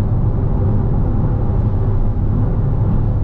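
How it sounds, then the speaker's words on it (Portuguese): Busy Brazilian highway traffic with many trucks heard from inside a moving car, a steady, continuous low road rumble and wind noise with no distinct events. "Tá bem cheia a estrada, galera."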